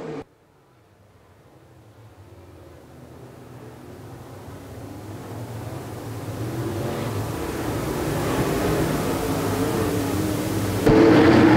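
Modified race cars roar around the oval at Quincy Raceways during a feature race, engine noise building steadily from faint to loud as the field approaches, a distant blended drone.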